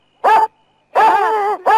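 A dog sounds off loudly and close up: a short yelping bark followed by a longer, drawn-out whining bark, then the start of another.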